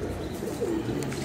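Caged pigeons coo softly and low, a brief, faint burble close by.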